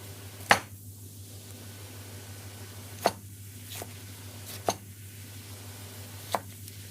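A knife cuts bullet chillies lengthwise for chicken jalfrezi, four separate sharp knocks on a chopping board spaced a second or two apart over a quiet steady hum.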